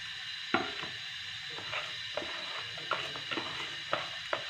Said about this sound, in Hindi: तो सारे राइस हम इसमें डाल देंगे।